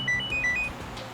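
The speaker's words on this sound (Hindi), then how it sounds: "फोन की घंटी बज रही है" A mobile phone rings with short, high electronic beeps in a quick repeating pattern, loud and close, with no voices over it.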